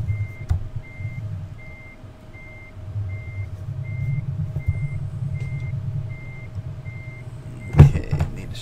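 Reversing beeps pulse steadily from a truck backing a trailer in Euro Truck Simulator, heard over a low constant engine rumble, ending with a sharp clunk near the close.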